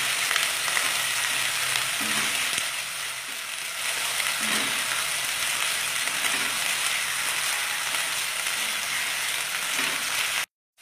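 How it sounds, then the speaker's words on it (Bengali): Spice paste with onion paste fries in a pan for a cabbage and rohu fish head dish, making a loud continuous sizzle with a few soft stirring scrapes, ending abruptly in silence. "মশলা কিন্তু খুব ভালো করে যেন ভাজা হয়, এই যে যেটা পেঁয়াজ বাটার কথা বলছি আমি।"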